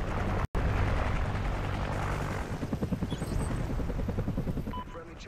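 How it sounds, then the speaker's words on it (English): A friendly military helicopter in a video game passes overhead, its loud rotor thumping in a steady rapid chop that grows more distinct toward the end, with faint game sounds behind. "Friendly chopper inbound."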